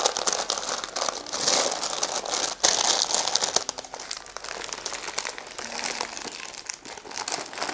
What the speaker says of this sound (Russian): вы сжимаете, бумага утрамбовывается вокруг ножки